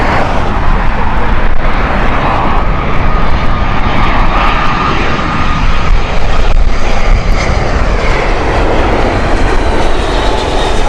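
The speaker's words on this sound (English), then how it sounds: "This is the BA Speedbird Flight 43 X-Ray Papa with an" A British Airways Airbus A319 arrives at Heathrow Airport with a loud, sustained engine roar and broadband rumble that holds steady throughout, close and without any talk.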